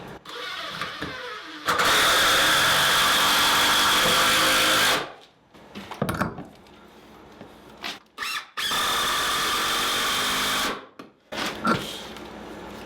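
A power drill drives screws into a soft, original wooden floor joist while damaged joists are sistered to fix a squeaky floor: two long, loud whirring runs of about three seconds each, separated and followed by short, sharp bursts.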